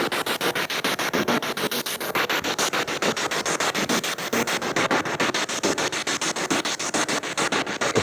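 Spirit box sweeping through radio static during a ghost hunt in an old Victorian police station, a loud continuous wash of white noise with rapid rhythmic choppy pulses throughout, no clear speech.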